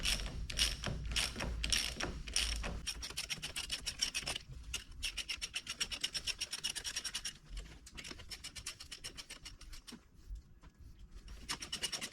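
A hand ratchet clicks rapidly and repeatedly during repair work on a Herron K24 lathe, its dense metallic pawl ticks running in quick bursts up close for the whole stretch, with no talk.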